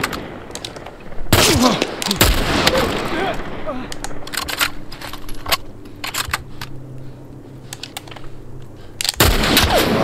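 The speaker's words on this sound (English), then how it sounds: "Damn, this rifle is not as powerful as Ellie's rifle for some reason." Rifle gunfire in The Last of Us Part 1, with two sharp, loud bursts, one near the start and another at the end, separated by a stretch of quieter game noise with clicks and faint rattles.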